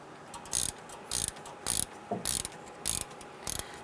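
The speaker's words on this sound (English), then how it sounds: "I want to go ahead and install our bolt here." Ratchet wrench tightening a bolt on the rear brake flex hose of a 1995-2001 Ford Explorer, heard as six crisp bursts of clicking in an even rhythm, close and clear, with a quiet shop hum in between.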